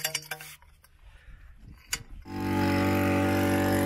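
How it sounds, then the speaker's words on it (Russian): A petrol motor pump on a shallow 8-meter well, installed on a plot without electricity, starts up after some clanks and knocks, then runs loud and steady with a dense droning roar up close. "очень шумно работает мотопомпа"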